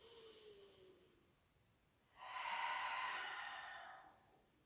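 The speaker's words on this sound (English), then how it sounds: "Let's take 2 nice deep breaths here." A slow, soft breath in and out during a yoga and barre stretch opening the inner thighs and backs of the legs, airy and close with quiet gaps around it.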